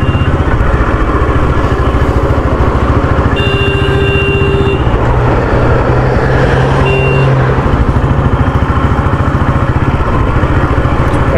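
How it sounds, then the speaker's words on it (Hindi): Another vehicle's horn honks twice, a longer blast and then a short one, over the close, steady rumble of a motorcycle engine on the road. "ऐसे कैसे हॉर्न मार रहा है भाई, इरिटेटिंग सा हॉर्न।"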